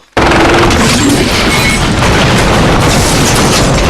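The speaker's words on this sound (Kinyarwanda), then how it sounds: "rocket launcher" A film's rocket launcher explosion, one sudden very loud blast that opens with a sharp onset, then a dense rumbling roar with crashing debris sustained at full volume.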